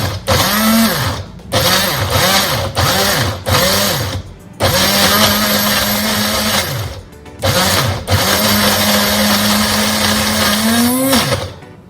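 A loud countertop blender crushes carrot, apple and beetroot for juice, motor revving in repeated short pulses that rise and fall, then longer sustained runs, with brief pauses between bursts.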